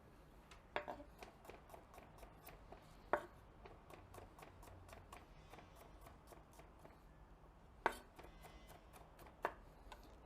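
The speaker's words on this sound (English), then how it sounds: "While it's cooking, we can cut some garlic." Garlic chopped with a knife at an outdoor grill, a faint, steady run of quick light taps on a board with a few louder knocks, alone and fairly close.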